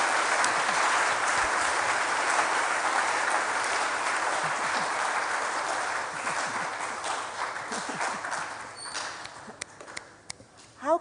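Lecture audience applauding for the speaker of an inaugural lecture, a dense sustained wash of many hands clapping that fades and thins toward the end, with a few scattered last claps.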